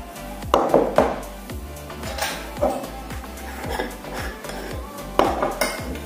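An egg, turmeric and salt being added to a bowl, with a few close clinks and knocks of cutlery and dishes over a low steady hum and no talking.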